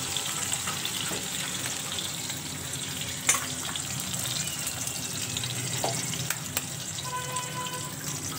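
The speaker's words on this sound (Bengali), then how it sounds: "ডিমটা একটু ভাজা ভাজা করে" An egg frying in a pan for a capsicum pasta dish gives a steady close sizzle, with a few sharp clicks and utensil knocks scattered through it, and no talk.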